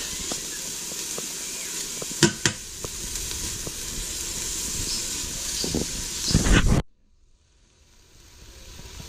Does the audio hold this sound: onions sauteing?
yes